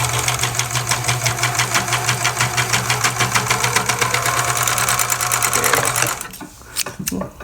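A serger sewing machine runs steadily, stitching the sleeve of a doll's raglan shirt. Its rapid mechanical whir and thump stay loud and close for about six seconds, then stop abruptly, leaving only a few faint handling sounds.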